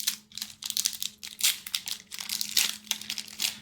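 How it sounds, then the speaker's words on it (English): Upper Deck Marvel Hawkeye trading card pack being torn open by hand: close, crisp bursts of foil crinkling and ripping in quick irregular pulses, with no talking. "Let's just rip it and get going."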